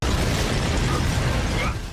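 An ice explosion in the Soul Land 2 animation, a loud dense roaring burst that fills two seconds before tapering off.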